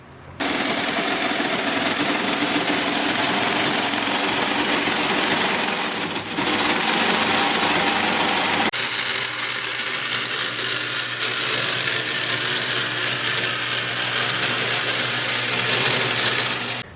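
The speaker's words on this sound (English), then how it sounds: "We're gonna take Sawzall now and get this piece cut out here." A Sawzall reciprocating saw cuts sheet metal plating for an upgrade on a 1937 Chevrolet Master, a loud, steady, harsh buzzing rasp running almost without pause, with a short break near the middle and a change in pitch near the end.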